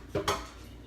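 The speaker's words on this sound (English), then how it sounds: "we're going to take our spoon and we are going to just basically flatten it out" A spoon presses and flattens a meatloaf mixture in a pan, two quick close taps and scrapes of metal against the pan.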